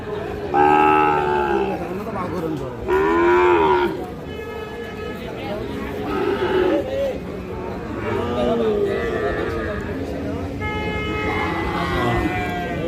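Sahiwal bull calves moo loudly at a cattle market, several long drawn-out calls spread across the stretch, over a busy crowd and talking.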